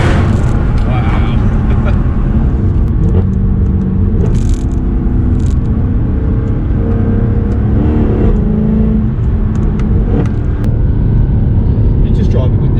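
A tuned Mercedes C63 AMG drives through a tunnel, its exhaust a deep, booming rumble that rises and falls with steady revs. The sound fills the cabin while people inside talk over it.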